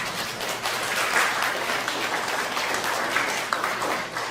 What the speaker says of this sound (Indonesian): Kita aplaus untuk mereka.